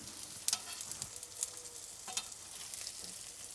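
Beetroot steaks fry quietly in a pan with a soft, faint sizzle, and a few light utensil clicks and scrapes break through.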